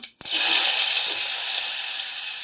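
Chopped onion hits hot oil with mustard seeds and cumin in a pressure cooker, starting a sudden loud hiss that settles into a steady, close sizzle with no talking.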